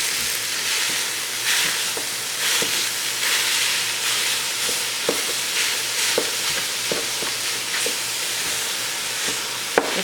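Ground beef sizzles steadily in a pan, loud and close, while a wooden utensil stirs and chops through it in repeated scraping knocks.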